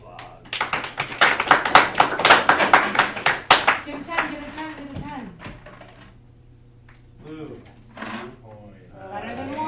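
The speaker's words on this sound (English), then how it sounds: "Applause." Students in a calculus lecture clap briskly for a few seconds, a fast dense patter of hands, which fades as a voice starts talking and continues alone.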